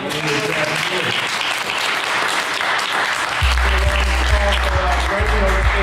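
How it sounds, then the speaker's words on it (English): Applause from a panel audience fills the room steadily, with a low sustained musical tone and beats entering partway through beneath the clapping. "let's give him a round of applause."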